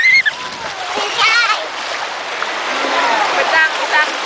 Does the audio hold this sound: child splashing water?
yes